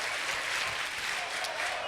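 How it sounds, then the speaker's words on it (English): Esports players from Latin American teams applaud and cheer from a balcony during a Rainbow Six Major playoff match in Berlin, a steady wash of clapping and crowd noise that stays loud and dense throughout. "You can see a number of the Latam players there just cheering."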